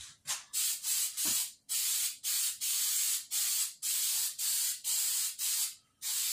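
Galvanized paint sprayed onto a fence in repeated short bursts, a steady rhythm of about a dozen loud hissing blasts separated by brief pauses, close to the nozzle with no voices.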